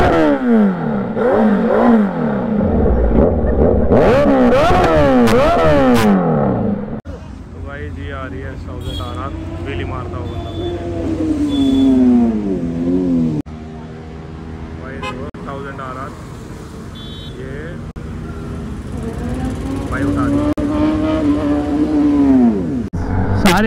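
A group of motorcycles rides off together after a Sunday bikers' meetup near Delhi, engines revving and whining with rising and falling pitch, loud and close at first and then settling into a steady drone.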